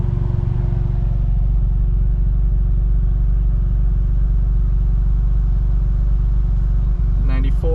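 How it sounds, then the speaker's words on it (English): An idling Suzuki F6A engine with its cooling fan running hard gives a steady, close rumble and whirr that holds constant throughout, with a brief rattle near the end. "You can hear the fan working real hard."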